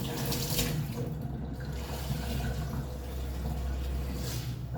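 Water pours steadily into a cooking pot for paksiw in a kitchen, a continuous close splashing rush with no pauses.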